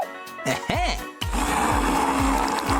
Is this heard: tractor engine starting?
no